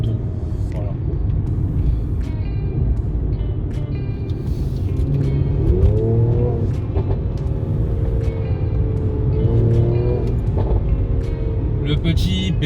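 A Mercedes-AMG C450 turbocharged engine on the move, a deep steady rumble of road and engine noise with tonal rises as the revs climb, under a man's ongoing speech.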